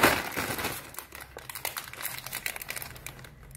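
Crinkling plastic packaging around a small Meesho decor product, a steady close run of dense rustling and crackling handled for several seconds with no talk.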